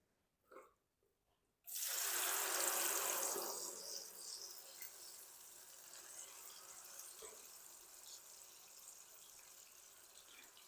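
Water running from a tap into a jug in a home kitchen while cooking karela sabzi, starting with a sudden loud gush and then settling into a steady, close, slightly quieter stream.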